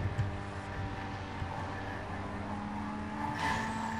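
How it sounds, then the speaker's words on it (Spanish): Car exhaust roaring from a Chevy in Need for Speed Most Wanted, a steady droning engine note held throughout with a slight swell near the end, no talk. "porque eso del escape se oye demasiado feo"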